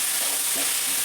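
Okra frying on high flame in a pan, a steady loud sizzle and hiss with faint stirring scrapes, heard alone at close range.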